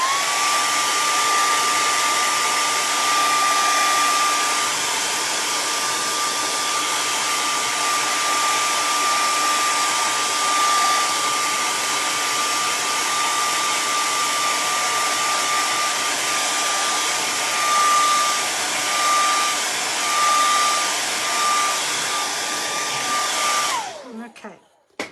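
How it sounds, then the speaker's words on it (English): A blow dryer runs steadily and loud on a painting to dry wet paint, a continuous whirring hiss with a fixed tone that holds for over twenty seconds and then cuts off. "I'm going to see if I can hit it with a blow dryer."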